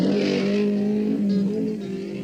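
A Ferrari race car at the 1965 Targa Florio pulls away from the pits, its engine a loud, steady, close howl with strong harmonics that eases slightly toward the end; no voices.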